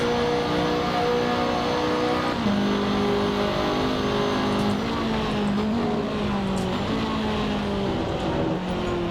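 Race car engine in the Assetto Corsa racing game, a loud continuous whine that steps up and down through gear changes on the final lap, heard alone without talk.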